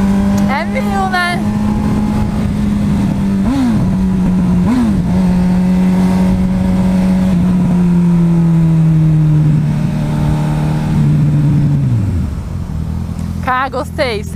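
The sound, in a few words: Honda CB1000 motorcycle engine revving while riding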